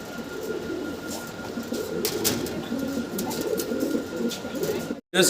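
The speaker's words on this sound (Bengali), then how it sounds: "আমরা এক পেয়ার ড্যানিশ কবুতর দেখতে পারতাছি" Soft, low cooing from a pair of Danish fancy pigeons repeats steadily over a constant background hum, with a brief dropout near the end.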